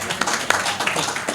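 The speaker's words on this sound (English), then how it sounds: "a round of applause for the pizza" A crowd applauding at a fireside chat gathering, a brief burst of scattered, moderately close hand claps with irregular sharp peaks, heard alone without talk.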